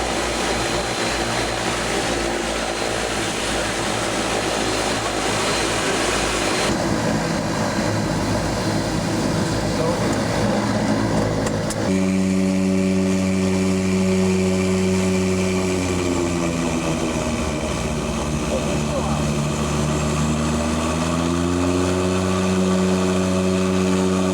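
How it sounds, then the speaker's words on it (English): A light aircraft engine drones steadily as the plane taxis to a halt, loud and close throughout, its tone shifting partway and then settling into a wavering idle hum. "You stay seated until the aircraft has come to a halt."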